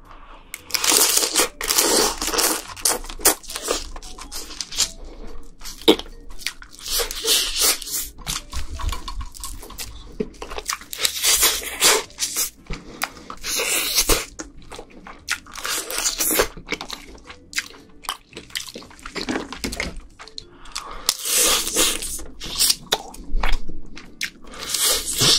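Snow crab and red crab being eaten up close, with loud, steady crunching and cracking of shell and wet chewing bites that repeat in quick irregular bursts for the whole stretch, with no talking.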